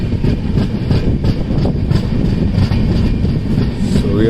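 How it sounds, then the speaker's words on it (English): A super fast train runs non-stop on the railway line between Mumbai and Chennai, a loud, steady rumble with faint rhythmic clicking of wheels on track joints, heard from on board and without talk. "This is a super fast train."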